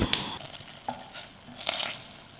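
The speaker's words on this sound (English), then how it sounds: "in a medium-sized saucepan, put the water, butter and salt, and under a gentle heat just until the butter starts to melt" Water, butter and salt warm over gentle heat in a medium saucepan, giving a light crackling sizzle broken by a few brief scraping, stirring sounds up close.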